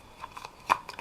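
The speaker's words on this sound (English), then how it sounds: "It's a very weak shuffle." Tarot cards are shuffled loosely and lightly in a brief run of soft, uneven papery flicks and snaps, close and quiet, with no talking.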